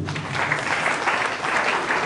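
An audience at a thanksgiving church gathering claps for an elected deputy, a brief burst of even, moderately loud applause with a faint voice underneath.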